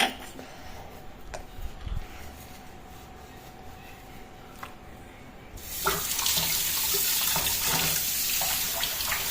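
A kitchen tap runs while dishes are washed: faint clinks at first, then a sudden steady, loud rush of water pouring close by to the end.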